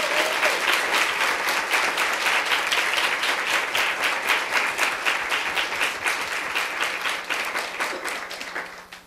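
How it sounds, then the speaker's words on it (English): A full round of applause from an audience at an academic workshop opening, steady, dense clapping held for several seconds before it fades away at the end. "can we give her a round of applause anyway?"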